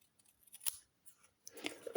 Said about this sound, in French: je me mets le long et je coupe